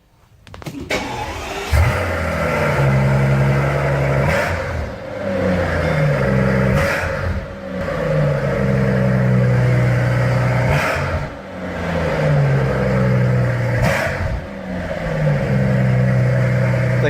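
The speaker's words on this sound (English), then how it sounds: "cold start this thing and rev it a little bit." A Mercedes SL cold-starts with a sharp crank and catch, then settles into a loud idle broken by repeated rising revs, each swell dropping back before the next, recorded close by with someone talking briefly.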